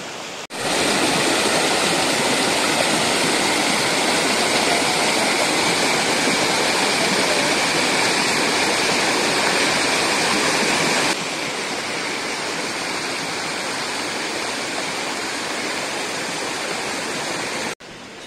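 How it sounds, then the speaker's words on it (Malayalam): Water rushes loudly and continuously from the weir at Orappankettu and flows down the stream below. The roar is strong and close and dips slightly in level partway through. "ഇവിടെ നിന്നുള്ള വെള്ളമാണ് താഴോട്ട് ഒഴുകി വരുന്നത്"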